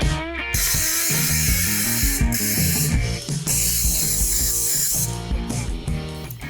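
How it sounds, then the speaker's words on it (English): Cooking spray hisses onto a lined baking sheet in two long bursts, heard over continuous background music. "it's time to add our cooking spray to make sure these poppers don't stick."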